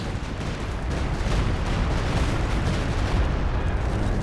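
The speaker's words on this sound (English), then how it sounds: "he did go for the walking Stuka" A walking Stuka rocket artillery barrage in Company of Heroes 2 rumbles as a dense, continuous wash of blasts and booms. The din stays loud and unbroken, with no voices over it.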